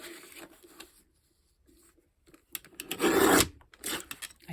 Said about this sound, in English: when you're cutting with a guillotine trimmer, make sure you hold it down nice and hard